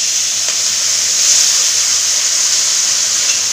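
Water poured into ginger spice paste frying in a pan hisses and sizzles loudly and steadily, a close, continuous steam hiss with no voices.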